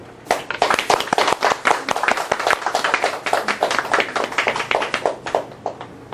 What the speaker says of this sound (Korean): 우리 그날의 함성 소리 상상하면서 오늘 19작지만 박수 한번.